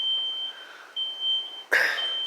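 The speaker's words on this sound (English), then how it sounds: "What if this is a fire alarm, right?" A loud beeping alarm like a fire alarm sounds in short repeated electronic tones, close by. A sudden louder burst of noise cuts through near the end.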